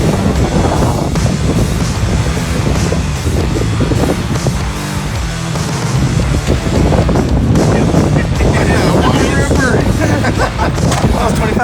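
A 1981 Honda CM400A motorcycle approaches and rides past, its engine a loud, continuous rumble blended with heavy wind buffeting throughout, with a brief dip in intensity midway.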